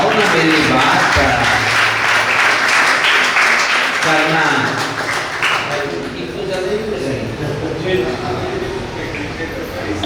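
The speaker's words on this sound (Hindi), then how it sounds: "ताली बजाओ ना मेरी बात पर।" An audience at a spiritual discourse breaks into loud, dense applause that fills the first several seconds, then thins into scattered claps beneath a continuing voice.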